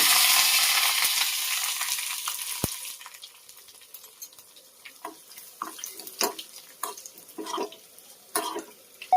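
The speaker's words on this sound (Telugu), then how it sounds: "ఆయిల్ వీటికిపోయింది, పోపు దినుసులన్నీ వేసేసుకుందాం." Dried red chillies, cumin, mustard seeds, fenugreek, coriander seeds and curry leaves drop into hot oil for tamarind rasam. A loud hissing sizzle fades, then scattered crackles and pops follow nearby.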